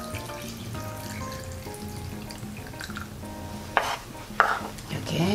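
Broth for bean sprout and egg soup is poured around the edge of a pot, with a low steady background hum and a few brief splashing bursts near the end.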